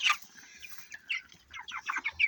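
Chickens on a broiler poultry farm give a run of short, soft clucks in quick succession, moderately close but fairly faint.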